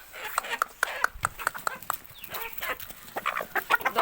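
Hens and their chicks cluck and peep close by in an irregular, busy rhythm, with a person talking over them.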